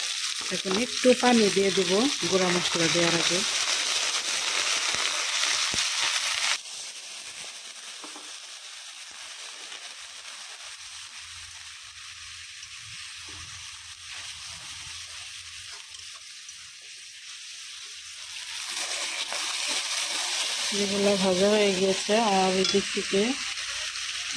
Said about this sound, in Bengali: আদা আর জিরা পেস্ট দিয়ে দিলাম